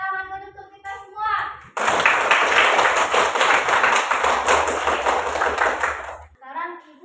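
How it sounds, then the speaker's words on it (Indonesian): A classroom of children clapping together, a loud burst of many hands lasting several seconds, with a voice talking just before and just after. "Tepuk tangan dulu untuk kita semua."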